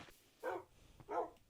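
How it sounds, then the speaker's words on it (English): Two short dog barks in a survival video game, clear and close, spaced about a second apart, with a faint third sound starting at the end. "2 dogs."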